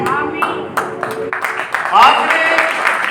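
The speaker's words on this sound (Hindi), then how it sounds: "और तीसरी ताली पता किसके लिए थी?" A congregation in a Hindi-speaking church claps together, giving a brief burst of hand claps under and between a pastor's loud, close speech.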